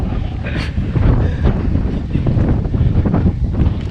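Strong gusty headwind buffets the microphone continuously on a walk near Saint-Martin-Lalande, a low roaring rumble with no clear voices.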